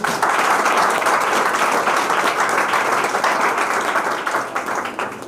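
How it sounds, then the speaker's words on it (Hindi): An audience at an academy film promotion event claps loudly in a dense burst of applause that fades near the end. "इन खातर एक बार जोरदार ताली"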